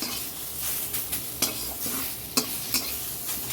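Panch phoron spices dropped into hot oil in a kadai, a constant crackling sizzle with sharp pops and occasional spoon scrapes against the pan, close and fairly loud.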